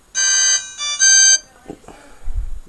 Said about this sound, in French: On va voir un peu le tour des sonneries.